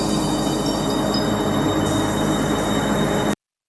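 A fast-moving train gives a steady, loud rumble with continuous broadband roar and faint high squeals, unbroken for a few seconds before cutting off abruptly.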